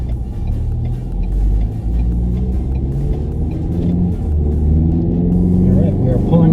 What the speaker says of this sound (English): All right, we are pulling out of the dealership now